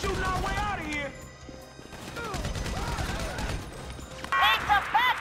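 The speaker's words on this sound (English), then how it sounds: "So I guess we're shooting our way out of here" Gunfire breaks out during the Paleto Score heist shootout in GTA 5, shown in first person, with scattered shots and crashing impacts among game effects and a voice talking.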